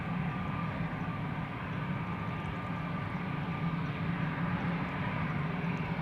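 An SAS Airbus A320 on flight 552 to Copenhagen at Schiphol Airport produces a continuous low engine rumble with a faint steady whine above it, moderately loud and unbroken, with no voices.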